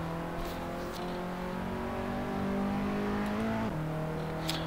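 A Ford Sierra RS500 engine in Assetto Corsa holds a steady, fairly loud drone, its pitch sliding and dropping near the end, with faint high clicks scattered over it.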